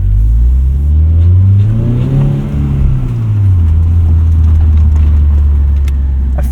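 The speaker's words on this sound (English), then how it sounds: "I figured this would be a good place to test the exhaust." A 2025 Toyota GR86 Hakone Edition sports car exhaust revs loudly and close, its pitch rising then falling back to a deep, rumbling idle.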